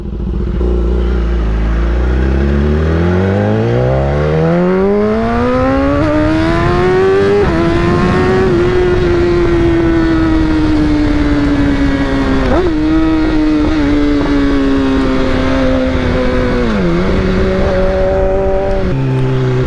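A Honda CBR650R motorcycle accelerating hard, its engine note climbing steadily through the gears with brief dips at each shift, loud and sustained with no talk.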